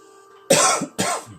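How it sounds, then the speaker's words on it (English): Two sharp, loud coughs in quick succession close to the microphone, each a burst with a short tail, following a faint hum with no talking. "Didn't mean to cough into the microphone."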